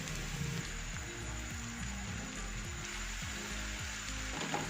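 Finely chopped small onion frying in a pan until light pink: a faint, steady sizzle and crackle of oil, close and continuous, with occasional soft clinks and no voices.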